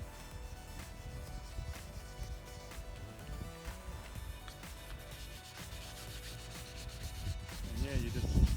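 Hand sanding smooths the ridges of peeled clear coat on car paint, a quiet steady rubbing scrape that repeats in short strokes and grows louder near the end, with no talking.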